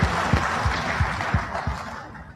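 An audience at a Supreme Court Bar Association women-in-law event applauds for the Chief Justice of India, producing dense clapping with periodic heavier thumps and fairly even loudness throughout.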